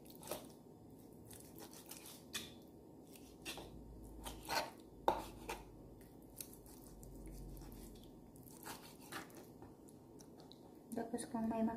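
A knife cutting marinated salmon into cubes on a board, a series of soft irregular chops and squishy slices, fairly quiet, with a few louder knocks toward the end.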